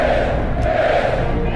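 Roaring arena crowd from the film Gladiator, a dense continuous wall of cheering and shouting voices that stays loud and steady throughout.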